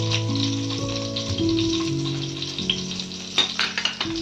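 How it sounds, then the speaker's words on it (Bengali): Whole spices such as bay leaves, cardamom, cinnamon and cumin sizzle in a little hot oil, a steady close frying crackle with a few sharper pops and stirring toward the end, no talking. "এর মধ্যে আমি 1/2 চামচ তেল দিলাম। দুটো তেজপাতা, এলাচ, দারচিনি আর জিরে"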